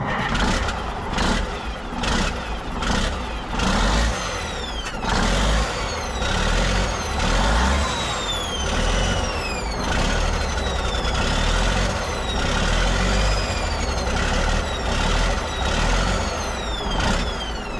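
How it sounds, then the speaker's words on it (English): An old, long-abandoned truck engine runs loud and close, a rough, rumbling idle overlaid with a whining, scraping turbo whose pitch rises and falls repeatedly, punctuated by sharp bursts throughout. "I can definitely hear this turbo scraping"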